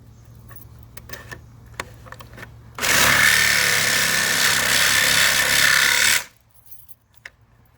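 An old saw blade cuts into a wooden picnic bench, giving one loud, harsh buzzing cut of about three seconds that hits screws, framed by quiet handling clicks before and after.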